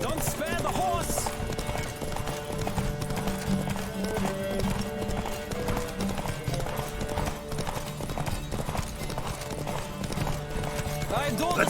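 A horse gallops in The Witcher 3, its hooves beating a fast, continuous clip-clop throughout, with occasional whinnies and voices mixed in.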